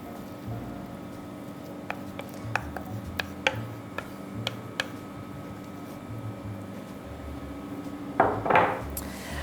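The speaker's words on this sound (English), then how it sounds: "I'm going to keep stirring inside the sieve, and all the salted caramel free of lumps is going to be in my bowl." Salted caramel is stirred through a metal sieve set over a bowl, with sparse sharp scraping taps and clinks against the mesh and a brief louder scrape near the end, close by with no talk.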